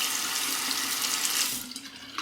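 Tap water runs steadily into a sink while a razor is rinsed under the stream, a close, continuous splashing rush that cuts off near the end, leaving a brief quieter moment.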